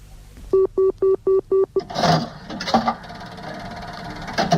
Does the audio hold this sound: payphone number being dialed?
yes